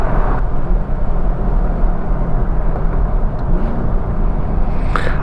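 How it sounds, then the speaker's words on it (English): Steady low exhaust drone from a 2011 Infiniti M56x cruising on a highway, continuous and fairly loud with road noise and no talking. "I like the exhaust."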